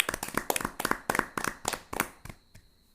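Schoolchildren in a classroom clap for a classmate, a quick run of sharp, close hand claps for about two seconds that then stops abruptly, leaving near silence.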